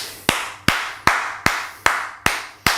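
Seven sharp hand claps ring out in a slow, even rhythm, each one crisp and close with a short room echo, and no voices are heard.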